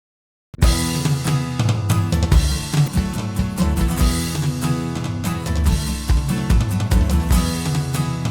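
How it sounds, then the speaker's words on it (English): A full band mix run through a Studer tape emulation plugin, with punchy kick drum and dense instruments, starts after a brief silence and plays on steadily and loudly. "I run each track through a Studer tape emulation"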